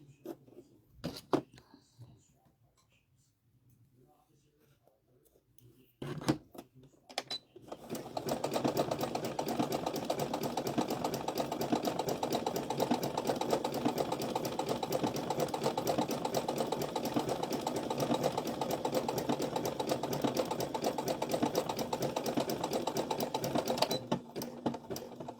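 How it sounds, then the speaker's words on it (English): A sewing machine stitching an appliqué onto a dishtowel, starting with a few short bursts and then running steadily and loudly at a continuous hum for most of the stretch before easing off. "Make sure I'm not sewing the other part of that."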